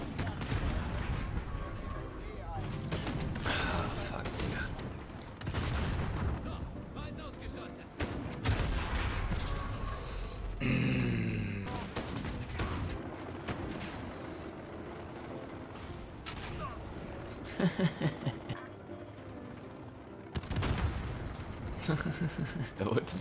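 Gunshots crack and rattle in Call of Duty Modern Warfare, scattered single shots and short bursts at moderate distance, with someone talking over much of the action.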